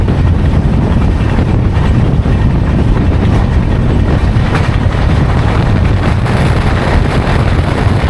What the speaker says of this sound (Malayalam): അങ്ങോട്ട് പാസ് ചെയ്ത് പോയ ട്രെയിനാണ് മംഗലാപുരത്തു നിന്ന് എല്ലാ ദിവസവും സർവീസ് നടത്തുന്ന കോയമ്പത്തൂർ എക്സ്പ്രസ്